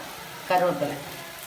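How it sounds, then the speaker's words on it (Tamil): A brief burst of frying sizzle as shallots sauté in a pan, rising suddenly and fading within a second against a quiet background. "இந்த உள்ளியும் இதையும் வதக்கணும், கொதிக்க விடணும்"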